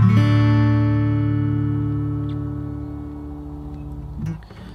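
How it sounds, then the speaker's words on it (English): An acoustic guitar tuned to open D gets a single strum and rings out as a full chord that slowly fades. A faint handling noise near the end follows the long, close sustain. "this song is in open D tuning"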